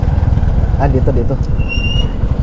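A motorcycle engine runs with a steady, dense low rumble throughout, close by, while voices briefly talk over it.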